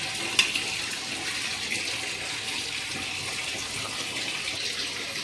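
Tap water runs in a steady, close gush into a sink while fish are washed, with a brief clatter near the start and no talking.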